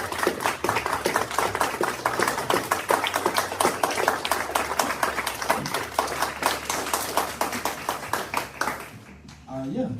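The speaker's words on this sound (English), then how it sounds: "Maybe one big round of applause for the three speakers this afternoon." Audience at an anti-poverty ministry event gives a sustained round of steady hand clapping for speakers, dense and even throughout before cutting off at the end.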